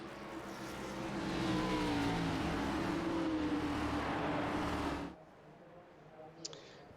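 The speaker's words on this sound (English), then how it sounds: "The pace car is coming out of 4 now" A pace car circles Charlotte in a racing game, a loud, steady engine drone with other cars' engines behind it that cuts off abruptly, leaving a quiet tail with a faint click.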